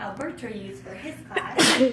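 A student sneezes in a classroom during an algebra lesson, one sharp loud burst near the end that comes after a teacher's speech, which is briefly heard.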